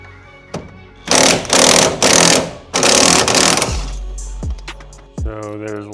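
A power tool spins off the 17 mm bolt at the bottom of a coilover where it mounts to the control arm on a Honda Civic: three loud, close, rattling bursts, then quieter clanks and knocks.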